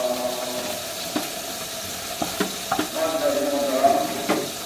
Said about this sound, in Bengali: আমি পেঁয়াজটা দিয়ে দিচ্ছি এখানে